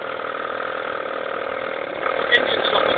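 A lawn mower engine idles steadily with a constant mid-pitched drone, running alone at close range with a slight lift in level near the end.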